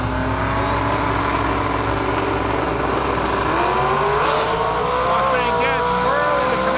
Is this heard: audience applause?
no